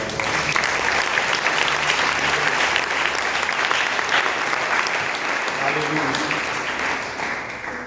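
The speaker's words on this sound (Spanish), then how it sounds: "A su nombre, un aplauso." Sustained, dense applause from a church congregation, loud and continuous for several seconds before tapering off slightly at the end.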